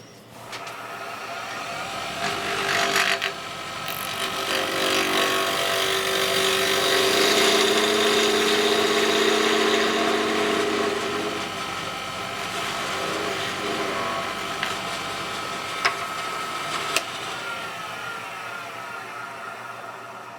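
A lathe whirs continuously with a steady motor hum, while scraping of a tool shaping a concave wooden pizza cutter handle rises and falls, with a few sharp ticks near the end.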